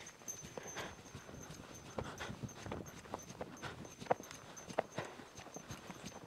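A horse walking on a loose rein in a riding arena, its hooves giving a soft, irregular clip-clop of steps, fairly close but quiet.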